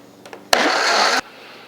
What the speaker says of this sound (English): the blender went for 6 minutes and 30 seconds